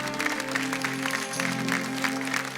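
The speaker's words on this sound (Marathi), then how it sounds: "त्यासाठी एकदा जोरदार टाळ्या ताईंसाठी झाल्या पाहिजे" An audience applauds on a Marathi TV show, steady clapping that runs the whole time over faint background tones.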